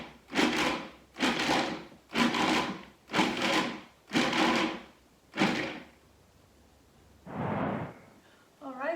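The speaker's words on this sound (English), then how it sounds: "We're gonna let the food processor, again, do the work on that and get the chocolate chips all smooth. We're just gonna pulse it this time." Food processor pulsing chocolate chips into black bean brownie batter: six short, evenly spaced whirring pulses about a second apart, then a softer longer one, close and fairly loud with no talk.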